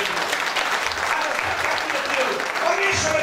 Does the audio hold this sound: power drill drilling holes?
no